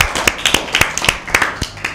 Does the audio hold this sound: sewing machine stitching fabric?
no